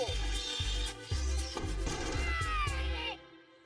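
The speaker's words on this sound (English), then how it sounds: "scrape the piece of resin along the thread. It sounds like the worst cat fight ever heard." A piece of rosin scraped along a thread gives a harsh, wavering screech like a cat fight, with repeated yowling bursts over thudding low pulses, loud and continuous for a few seconds before it cuts off.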